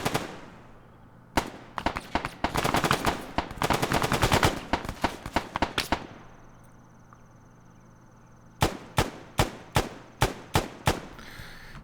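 Gunfire in the video game Arma 3: long rapid automatic bursts give way to a quiet stretch with insects chirping, then a string of separate sharp shots fired at a steady pace.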